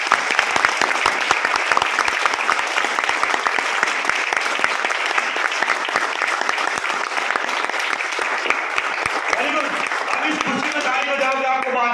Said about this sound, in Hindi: चलो जिनको नींद नहीं आ रही वो ताली बजाओ।